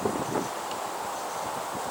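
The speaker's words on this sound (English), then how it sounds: "The wind's got up" Steady outdoor wind buffets the microphone beside a carp fishing lake, a broad continuous rushing that stays even throughout with no voices.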